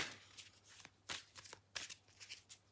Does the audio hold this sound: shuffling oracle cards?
yes